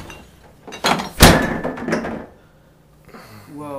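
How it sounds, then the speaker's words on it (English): A fridge door slammed shut in a home kitchen, giving a sharp loud thunk with a rattle after a couple of softer knocks, then a short quiet tail and faint movement. "Slam the fridge door."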